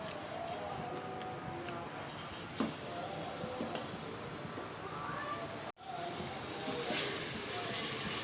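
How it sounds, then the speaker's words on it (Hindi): Spices and masala frying for mutton korma: a faint, steady sizzle runs throughout with one brief dip, quiet and continuous. "इसको अच्छी तरह से भुनाई करें मसालों के साथ।"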